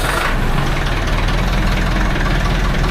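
A farm engine runs loud and close at a steady, rumbling idle, with no break for the whole stretch.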